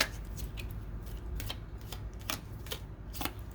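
Tarot cards are shuffled close up in a soft, papery riffle, with several sharp flicks and slaps breaking through the steady rustle.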